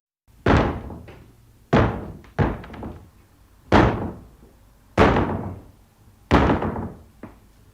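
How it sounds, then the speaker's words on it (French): Heavy wooden thuds strike a front door again and again, six loud, close, axe-like chops spaced irregularly, each with a short ringing decay. "elle a entendu avec effroi la hache fracasser sa porte d'entrée"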